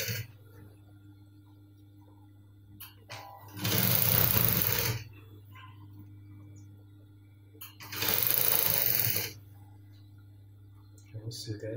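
Sewing machine stitching a cargo pocket, running in two loud bursts of about a second and a half each, separated by pauses. A steady low hum sits underneath and a person talks in between.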